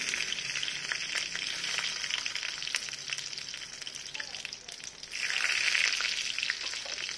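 Chopped garlic and five-spice seeds sizzle in hot oil for tempering spinach daal, a steady close crackling fry that surges louder near the end.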